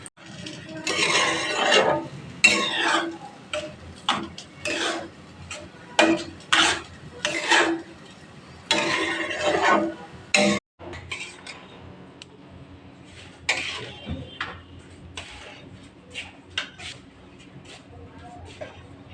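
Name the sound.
stirring semolina with ghee in a pan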